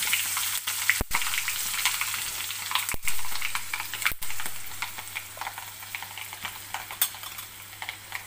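Cumin, mustard seeds, curry leaves, green chillies and asafoetida frying in hot oil for an Indian tempering, giving a steady, close crackling sizzle broken by a few sharp clicks of a utensil against the pan.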